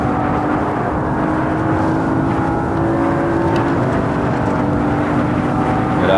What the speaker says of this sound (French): On remet les gaz à fond.